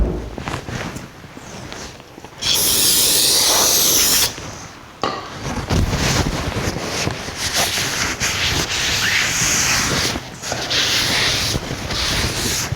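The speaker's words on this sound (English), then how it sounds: "we want to clean this disc" Brake disc on a 1949 Chevrolet gasser being cleaned of grease, with repeated scrubbing and wiping strokes, including a loud, steady rubbing burst near the mic, continuing in uneven passes.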